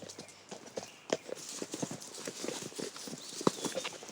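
A horse on a long ride through the Cantal countryside clip-clops along a road, hooves striking in an uneven, steady rhythm, fairly close and moderately loud with faint background noise.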